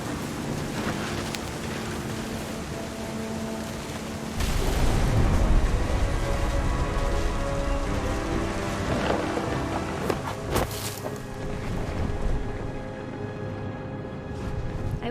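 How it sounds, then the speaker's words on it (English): Thunder and heavy rain in the video game What Remains of Edith Finch: a steady wash of rain with a deep rumbling thunder roll swelling midway, plus a few sharp cracks, with no voices. "The thunder sounded much too close and full of angry power"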